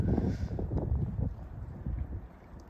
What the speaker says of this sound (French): le vent qui se lève en plus, c'est merveilleux